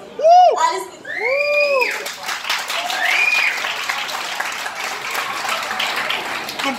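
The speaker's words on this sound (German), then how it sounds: "bitte neuen Applaus für die beiden Jungs." Audience applause and cheering for a pair of male salsa dancers at a salsa show, a loud burst of clapping mixed with excited whoops and children's voices that carries on steadily throughout.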